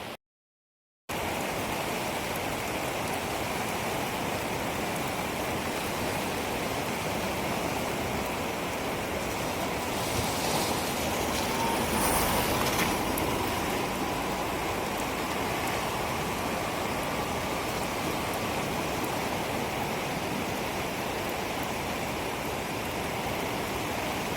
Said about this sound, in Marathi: मित्रांनो बघा किती जोरदार पाऊस आहे